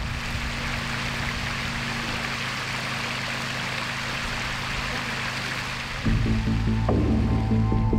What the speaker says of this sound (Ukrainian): І от із того місця відкачують воду по цьому насосу